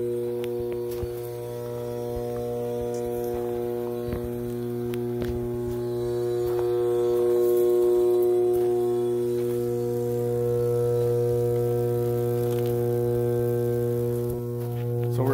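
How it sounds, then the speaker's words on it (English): Cooling fans on a large 230/138 kV power transformer at a terminal give a steady, loud electrical hum with strong even harmonics and a low drone, rising and falling slightly in level over the whole stretch, with no talking. "Some extremely large cooling fans."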